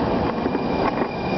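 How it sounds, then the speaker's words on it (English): Riding aboard a MAX light rail train: a steady, loud rumble of wheels and motor fills the car without pause. "This is our max train up to our next run called Hellway."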